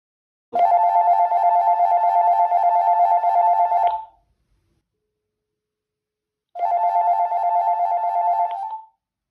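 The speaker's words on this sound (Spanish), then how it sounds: "Así que llamamos al teléfono fijo" A landline telephone ringback tone, the phone connected through an ATA-SIP adapter, sounds in two long buzzing rings separated by a pause of silence, clear and close.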